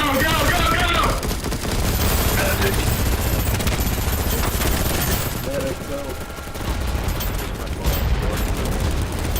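Light machine gun fire in the shooter game BattleBit, dense sustained bursts of gunfire filling the clip with a rough, loud rattle and occasional heavier booms.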